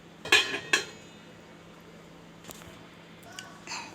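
Two sharp metallic clanks as a lid is set on a pot of lentil soup, then a few softer clinks of cookware in a quiet room.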